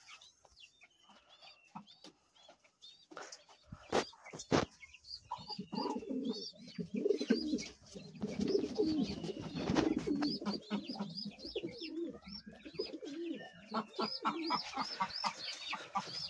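Many pigeons on a pigeon farm coo in overlapping, rolling calls, close and busy, with soft rustles and bird movement building after a quieter opening.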